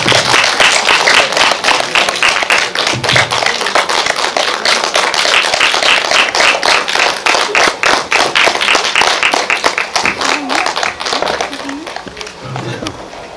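Sustained audience applause at a film screening Q&A, dense, crackling claps throughout, loud and steady, with brief voices murmuring underneath before tapering slightly near the end.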